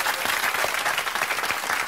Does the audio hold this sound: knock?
no